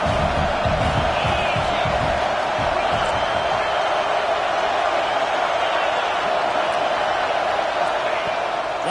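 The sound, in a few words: stadium crowd cheering at a football game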